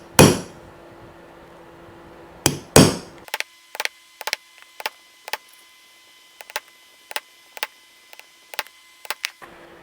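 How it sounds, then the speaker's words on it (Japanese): A punch is hammered into box calf leather to make stitch holes: a rapid series of sharp, close taps in small bunches with short pauses between, following a couple of louder knocks at the start. "こんな感じで親穴子穴を一つずつ開けていきます。"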